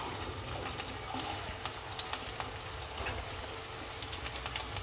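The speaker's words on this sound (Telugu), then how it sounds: "ఇప్పుడు ఆయిల్ కాగిపోయింది నేను ఆనియన్స్ వేసుకుంటున్నాను" Onions drop into hot oil for a crab curry, giving a dense continuous crackle and hiss with scattered pops, steady and close, no talking.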